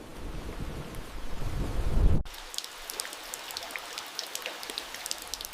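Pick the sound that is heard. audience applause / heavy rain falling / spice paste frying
heavy rain falling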